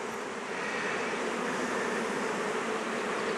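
Honey bees swarm over a frame pulled from a nuc hive during a transfer, a dense, steady close-up buzz that fills the whole stretch without pause or speech.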